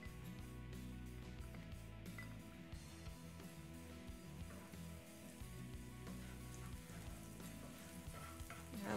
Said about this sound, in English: I'm gonna put my remaining pieces surrounding it on the skillet.